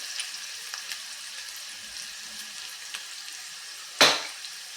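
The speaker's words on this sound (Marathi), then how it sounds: "कढीपत्ता किंवा कढीलिंब आणि मिरच्या आपण परतून घेऊया" Curry leaves and green chillies sautéing in a pan give a steady, faint sizzle throughout, with a single sharper crackling burst near the end.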